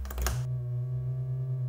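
A modular synthesizer oscillator holds a steady, buzzy harmonic tone after a brief noisy burst at the start, sustained and unchanging to the end.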